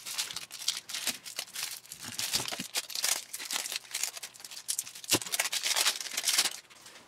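Stuck-together packaging of a Magic: The Gathering Kaladesh gift box being cut and pulled apart, with close crinkling, snipping and tearing of paper and plastic in irregular bursts, fairly quiet, with no speech.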